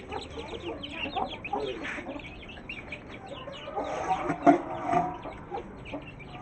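Chickens cluck busily and continuously at close range, a dense flock chattering with a few louder squawks rising above the rest.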